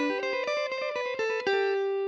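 Electric guitar played in short staccato notes through a dotted eighth delay, each plucked note followed by a quieter echo, forming a steady cascading rhythm that ends on one sustained ringing note.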